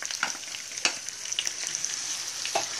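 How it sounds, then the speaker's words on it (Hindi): Garlic-ginger paste sizzles and crackles steadily in hot ghee, a continuous bright frying hiss with scattered pops and a few stirring scrapes, close and alone. "अब हम इसमें डालेंगे लहसुन अदरक का पेस्ट डालेंगे"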